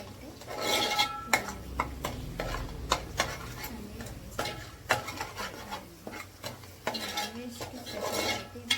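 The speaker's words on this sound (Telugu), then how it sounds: "ఇలా అల్లం వెల్లుల్లి పేస్ట్ వేసేసాం కదా ఇది బాగా కలవాలి" Metal spoon stirring ginger garlic paste in a pan for Kashmiri chicken curry, with repeated scrapes and clinks against the metal and a faint sizzle underneath, no voices.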